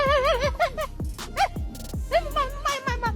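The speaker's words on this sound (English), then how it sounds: "A barking whisper." A dog gives soft, breathy whisper-like barks and whimpering yips in short repeated bursts, close and fairly loud, with a person's voice talking between them.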